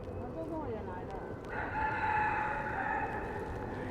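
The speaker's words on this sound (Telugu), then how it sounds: "ఇక్కడ ఎవరో కోడిని కూడా పెంచుతున్నట్టున్నారు, కుక్కురు అంటుంది" A rooster crows once at the Batu Caves hilltop temple, a drawn-out cry that rises over steady background chatter and ambient noise, moderately distant.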